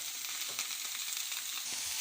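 Continuous gentle sizzling and crackling of vegetables with carrot frying in a little oil in a pan, steady and fairly quiet, with no talking.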